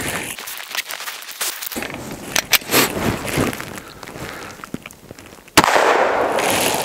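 Gunshots from 10mm Glock pistols, Glock 40, Glock 20 and Glock 29, firing Underwood 165 gr JHP and 155 gr XTP rounds outdoors; sharp loud cracks at irregular intervals, with a heavy final blast near the end.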